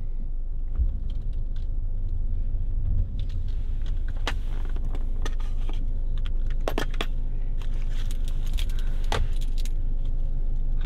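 Keys and a badge jangle in bursts of metallic clinks as the badge is put on inside a car, over a constant low engine rumble, the clinks close and irregular.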